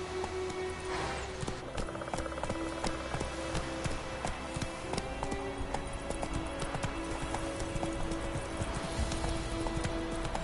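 Roach, a horse in The Witcher 3 video game, clip-clops along in a steady run, hoofbeats continuous and fairly close over a dense game soundscape with music and ambient noise.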